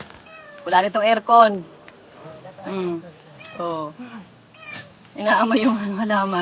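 Cat meowing in short repeated bursts, close and fairly loud, mixed with a person talking nearby who also echoes the meows.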